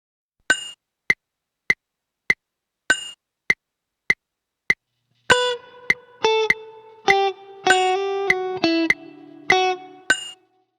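A Spanish-style guitar tune opens with a steady train of sharp muted clicks counting the beat, then plucked electric guitar notes take over in a rhythmic melody with short staccato notes and a sustained chord, clear and close.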